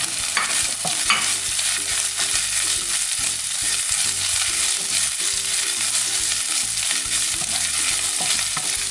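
Green chilies fry with ginger garlic paste in a pan for palak chicken, making a loud, continuous sizzle broken by repeated scraping stirs throughout, with no voices.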